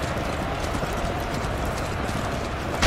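Rapid, steady clip-clop of galloping horse hooves in the game Tiger Knight runs continuously over a dense, noisy game soundscape.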